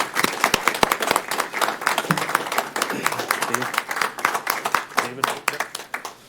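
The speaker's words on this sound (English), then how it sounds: "I'd like to offer a round of applause for these 2 men." A room applauds two men honored with a Golden Citizen Award at a park district board meeting, sharp close handclaps rattling steadily throughout while a voice speaks over them.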